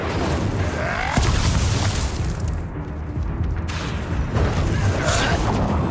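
In the Hogwarts Legacy video game, the Incendio fire spell is cast as a loud, dense fiery blast that roars and booms almost without pause, with crackling bursts throughout during a wizard duel.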